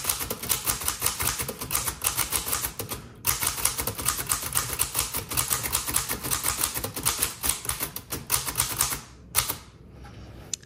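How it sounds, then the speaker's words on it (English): Rapid, steady keystrokes from a 1931 Remington Portable typewriter, with sharp clacks close up and a short pause partway through, ending with a louder strike and quieter tapping. "I really like this typewriter."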